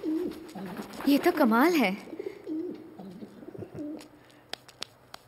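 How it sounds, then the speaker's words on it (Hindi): Pigeons coo in a short run of warbling, rising and falling calls, close and clear indoors, followed by scattered soft clicks and rustles as a person speaks briefly. "ऐसे यहाँ इतने कबूतर क्यों हैं?"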